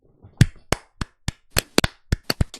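Hand clapping from a few people, about a dozen sharp, loud claps in an irregular rhythm that quickens toward the end, with silence between them.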